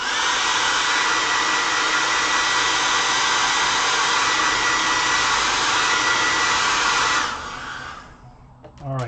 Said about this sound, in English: we're going to hit it with a little hair dryer.